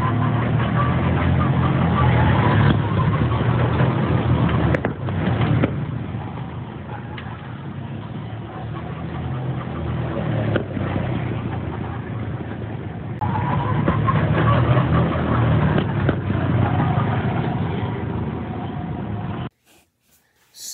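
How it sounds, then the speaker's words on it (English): Go-kart engines at a Pigeon Forge track, a continuous close buzzing motor drone that swells and eases as karts pass, running steadily for about twenty seconds before cutting out. "here's some of the footage at the go-kart track"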